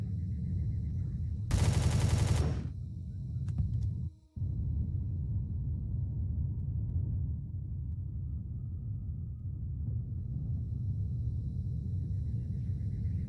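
A short, loud burst of tier 2 assault rifle fire in the Empyrion game, lasting about a second, followed by a low steady rumble of ambient background hum with a brief dropout.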